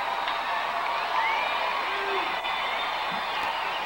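A baseball stadium crowd at a Mets vs. Angels game makes noise on its own, a broad, distant roar with scattered whoops and cheers swelling steadily.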